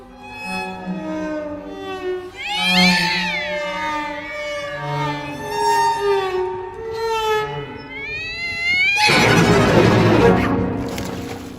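Saint-Saëns orchestral music in which instruments mimic two cats meowing, approaching and squabbling with loud sliding, wailing tones, ending in a dense, noisy burst as they scramble off.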